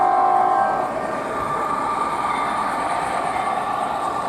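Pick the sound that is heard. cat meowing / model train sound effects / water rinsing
model train sound effects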